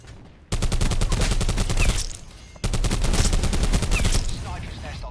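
Rapid automatic fire from a specialist weapon in Call of Duty Black Ops 4, two long loud bursts of fast shots separated by a short pause, with faint game sounds in between.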